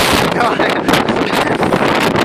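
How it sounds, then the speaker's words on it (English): Strong wind roars across the microphone on Haughmond Hill in Shropshire, a loud continuous rush and buffeting throughout. "Still really windy."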